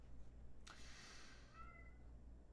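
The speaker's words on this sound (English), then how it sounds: "Uh-oh. Cat's crying." A hungry house cat lets out a single drawn-out meow, faint and somewhat distant in a quiet room, with no talking over it.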